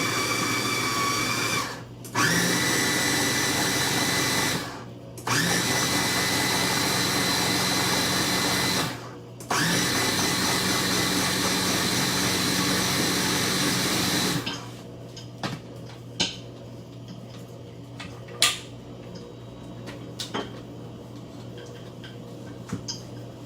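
Kitchen grinder pureeing tomato with soaked dried red chilies and garlic for momo chutney, loud whirring in three bursts separated by short pauses, then stopping, followed by faint clicks and handling noises.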